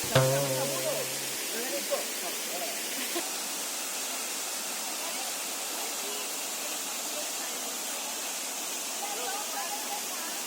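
Seventh waterfall on a group hike, a steady broadband rush of falling water that fills the scene from start to finish, with a brief voice near the beginning before the roar continues alone.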